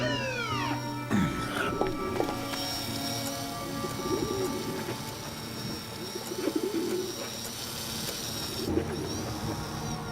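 Pigeons coo and call repeatedly in an animated Belphégor episode, their soft warbling mixed with a busy, layered soundtrack that includes some music.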